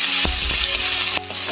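A ground paste of cumin, coriander, onion and green chilli sizzles hard in a hot pan, loud and close, with a couple of stirring scrapes.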